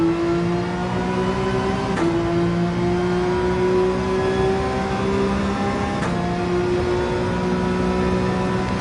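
A Dodge Viper at full throttle in Gran Turismo 7 on the Nürburgring, its engine holding a loud, steady high-revving drone with a brief dip at each gear change roughly every four seconds, no voices present.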